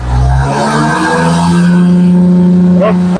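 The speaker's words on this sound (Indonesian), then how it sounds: "Kita akan melihat berapa RPM bisa ditempuh motor ini. Coba digas." A motorcycle engine with a racing remap of its stock ECU revs loud and close, holding a steady high-pitched drone before a quick blip and cut-off.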